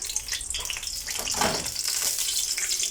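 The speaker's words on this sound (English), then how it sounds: "the oil is sizzling up" Oil sizzles and spits in a frying pan holding a little water, ready for caramelizing onions for hot dogs; a steady, close hiss with crackling pops runs throughout.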